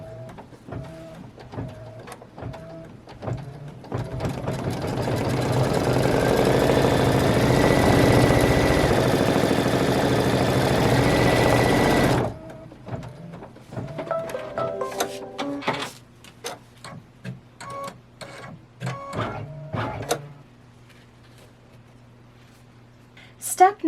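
An embroidery machine runs a collar placement stitch on a child's T-shirt, a steady mechanical whirring hum for several seconds that stops, followed by scattered clicks and handling noises while a person speaks.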